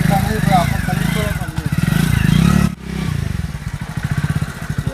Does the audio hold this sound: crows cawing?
no